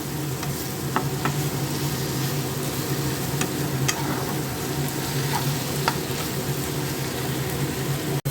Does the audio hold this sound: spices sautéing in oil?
yes